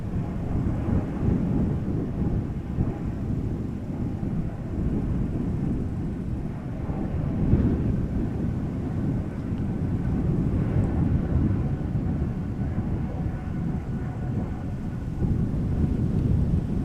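Embraer E195-E2 airliner at Amsterdam Schiphol Airport, a deep, continuous low rumble of jet engines with wind buffeting, steady throughout without speech.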